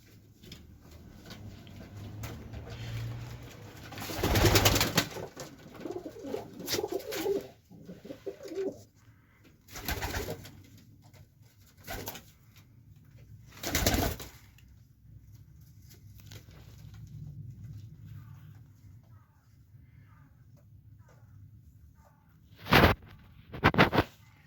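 Colored fighting pigeons in a winter loft cooing softly now and then, mixed with scattered wing flaps and bursts of handling noise, and no voices.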